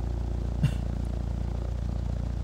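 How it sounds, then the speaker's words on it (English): A Cessna 172 engine idling in the flight game Infinite Flight, a steady low drone with an even pulsing rhythm that runs throughout, with one brief clatter near the start. "Like a Cessna idling. That's what it sounds like."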